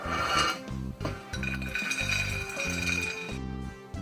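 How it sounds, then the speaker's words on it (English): Roasted fox nuts (makhana) tipped from a pan onto a plate make a dense, continuous clatter of light, crisp clinks for about three and a half seconds, close and alone. "So I'm transferring this into a plate."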